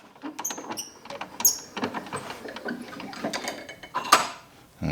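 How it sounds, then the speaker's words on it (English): Small metallic clicks, ratcheting and scraping come from a 1926 Victrola Credenza phonograph motor as its crank is worked out by hand, faint and close with irregular taps. "take the crank out of the machine"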